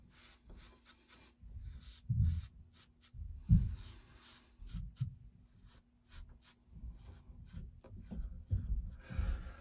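Close, soft scraping strokes of a stainless steel double-edge slant safety razor shaving stubble against the grain, coming in short irregular passes with quiet gaps between them.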